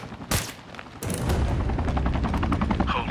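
A sniper rifle shot rings out in Sniper: Ghost Warrior 3, a sharp loud crack near the start, then a second heavy report followed by a sustained rumbling echo and background game noise.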